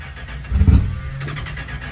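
The engine of a 1963 Chrysler 300J turns over and catches with a brief low thump, then settles into a rough, steady idle close by.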